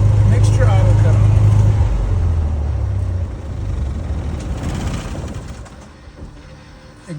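A Cessna T210N piston aircraft engine idles loudly on the ground, then winds down and fades to a low rumble as it shuts off.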